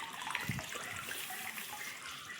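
Water runs steadily into an inflatable family pool, giving a soft, continuous rushing splash at a modest level. There are no voices and no breaks in the flow.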